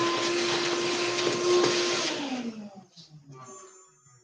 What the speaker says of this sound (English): So we're going to hit that with the shop vac.